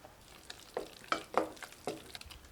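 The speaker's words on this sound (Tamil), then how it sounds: "கொஞ்சம் கரண்டியில் இந்த மாதிரி நல்லா கலந்து விட்டுக்கணுங்க" A ladle stirs and scrapes through thick rasam rice in a pressure cooker pot, making several quiet, uneven strokes close by with a faint sizzle.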